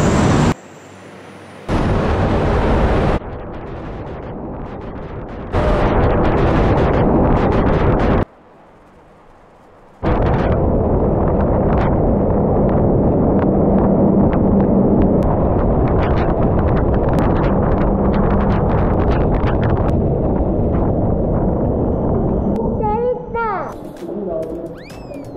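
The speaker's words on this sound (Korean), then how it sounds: "저희가 태풍을 한번 경험해 볼게요." Strong typhoon-force wind blasts in a typhoon simulation experience, a loud roaring rush that cuts in and out in bursts, then holds steady and buffets hard, with people shouting and talking over it.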